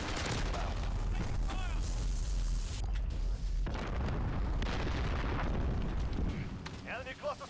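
Cluster strike explosions in Modern Warfare on the Shipment map: a dense, loud barrage of booms and gunfire rumbling almost continuously, briefly dipping, then surging again before fading at the end.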